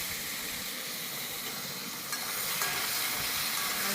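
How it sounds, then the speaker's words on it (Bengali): Potato and taro pieces frying in oil in a pan without turmeric, giving a loud, continuous sizzling hiss that holds steady throughout with slight crackle and no voices. "এই যে আলু আর কচুটা ভেজে নিচ্ছি।"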